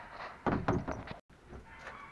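A door is pushed shut at an outdoor family spot near a karting track and husky kennel, giving a couple of close, solid thuds followed by a brief quiet gap and faint background noise.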